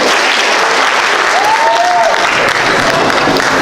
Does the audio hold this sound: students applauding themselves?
yes